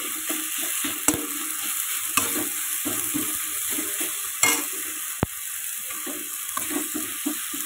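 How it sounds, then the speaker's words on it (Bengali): Tomatoes with salt, turmeric and cumin powder stirred in a pan, with a steady sizzle and frequent scraping spoon strokes and clinks against the metal, close and alone. "দিয়ে এটাকে আমি সুন্দর করে নাড়াচাড়া দেবো, যেটি হোক টমেটোগুলো ভালো করে গেলে নেব একদম।"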